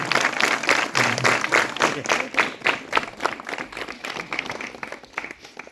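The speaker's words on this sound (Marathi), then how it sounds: "सगळ्यांनी टाळ्या वाजवा" Students and teachers at a school alumni gathering clapping for a teacher, a crowd's brisk applause that gradually thins out toward the end.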